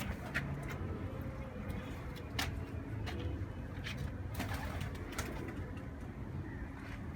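Teddy pigeons coo softly and repeatedly against a low background hum, with scattered faint clicks and rustles.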